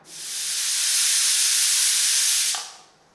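A pressure cooker cooking bisibelabath rice lets out a loud, continuous steam hiss that swells for about two and a half seconds, then cuts off and fades, with no voices.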